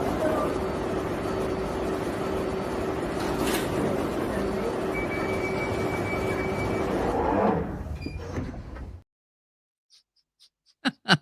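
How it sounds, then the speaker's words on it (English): A train stands at an underground station platform, with steady rumbling, a recorded announcement, and a sharp rise before the doors close and the sound drops away, followed by a few distant clicks. "Mind the gap between the train and the platform."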